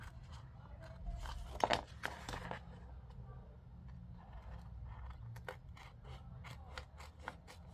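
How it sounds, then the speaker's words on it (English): Scissors snip through a printed ID card sticker sheet, a few sharp close cuts and rustling paper handling at low level in a quiet room. "Snip it in half. Cut off the excess."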